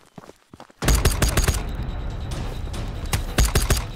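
Gunfire in the video game Ghosts of Tabor: a few scattered shots, then a dense, loud burst of rapid automatic fire with sharp repeated cracks continuing over several seconds.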